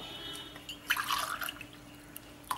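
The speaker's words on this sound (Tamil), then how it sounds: "இப்போ 4 டம்ளர் ஊற்றிருக்கோம் இல்லையா, 5, இன்னும் 1 டம்ளர்" A tumblerful of water is poured into a pot while making rice vadagam batter: a short, faint splashing pour in the middle, set against a quiet kitchen background.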